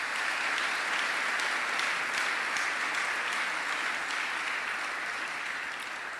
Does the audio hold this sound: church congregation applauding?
yes